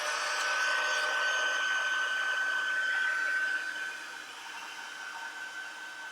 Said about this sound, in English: excuse me while I turn on the heat tool here